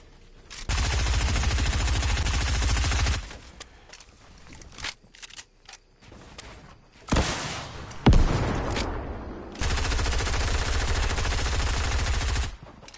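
Fortnite gunfire comes in long, dense automatic bursts, very loud and close, broken by a few single shots and short gaps, with no talking.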